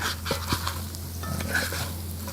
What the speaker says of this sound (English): I'm gonna scrape underneath, mix them up a bit, and see where we're at